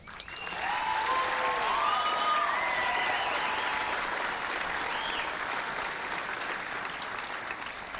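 Sustained applause from a crowd at a USA vs. Australia exhibition game, a steady wash of clapping with faint voices and whistles, rising quickly and holding at a moderate, slightly distant level.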